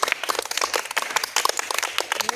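Children at a karate camp clapping their hands, a dense, irregular patter of many small claps from a group, steady and close throughout a couple of seconds.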